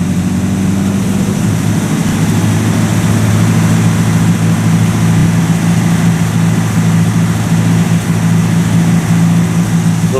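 A 1950 Buick Roadmaster engine runs continuously and loudly with a steady low rumble, a slight hiccup in its rhythm barely breaking the even drone, with no talking.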